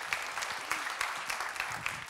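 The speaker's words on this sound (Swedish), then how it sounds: "En applåd." Conference panel audience applauding, a brief burst of many hands clapping at an even, moderate level, heard alone without speech.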